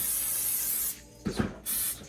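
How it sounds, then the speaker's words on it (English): Cooking spray hisses in two bursts onto a hobo pie grill iron, each short spray loud and close, with a brief clatter of handling between them. "Spray it so it don't stick."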